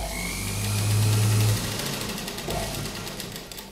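An electric sewing machine stitching fabric for a sleeveless kurta gives a close, steady whirring motor hum that runs briefly, then eases off into a quieter mechanical rattle.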